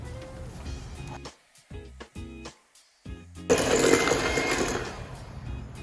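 An electric mixer beats butter and brown sugar, buzzing in short stop-start bursts before running continuously with a rougher, louder whir, close up and with no talking.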